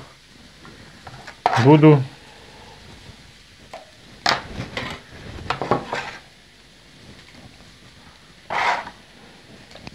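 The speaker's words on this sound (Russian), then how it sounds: "Так, все жарится, все шкварчит." Burbot liver and milt fry in oil in a skillet with a quiet steady sizzle, broken by a few clinks and scrapes of a utensil against the pan. Someone speaks briefly over it.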